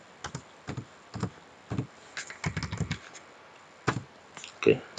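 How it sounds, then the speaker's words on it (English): Computer keyboard typing, heard as short clustered bursts of keystrokes with a spacebar press, fairly close and moderately loud, with pauses between runs and no talking. "you press the space button and you type your name and then the registration number"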